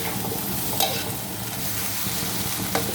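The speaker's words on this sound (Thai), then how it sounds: "ขั้นตอนแรกเราอย่าเพิ่งผัดสุกมาก เราผัดผัดแป๊บนึงเราก็เอาข้าวลงนะคะ" Shrimp stir-fried briefly in a pan for shrimp fried rice, a steady close-up sizzle with scraping stir strokes and a couple of sharper clinks, no voices.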